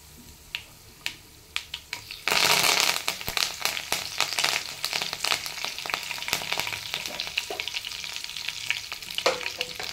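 Chana dal and curry leaves frying in hot oil, a few sharp pops and crackles first, then a sudden loud sizzle that settles into continuous crackling with scattered spits, close up and without talk.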